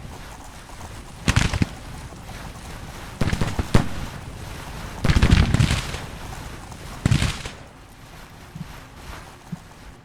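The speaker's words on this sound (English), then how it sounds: "There we go, opening shots." Gunfire from a Civil War battle in the strategy game Grand Tactician, with several distinct bursts of musket shots spaced a second or two apart, the loudest volley in the middle, over a soft steady background.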